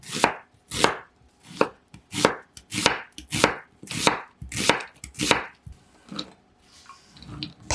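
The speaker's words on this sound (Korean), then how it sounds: "양파 1개는 채 썰어 주세요." A knife slices an onion into thin strips with about a dozen crisp, evenly spaced chops close by. The chopping slows and fades into quiet near the end.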